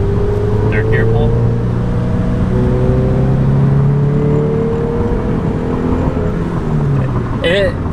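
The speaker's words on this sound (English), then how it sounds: "Third gear pull." A drift car pulls hard in third gear, its engine drone rising steadily and loud throughout from inside the cabin, with people talking over it.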